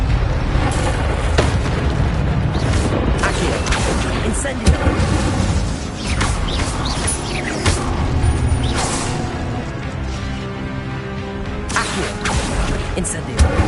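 Incendio fire spells burst repeatedly in Hogwarts Legacy, with booming whooshes and crashes in a dense, loud combat mix, while a player's voice speaks over the action.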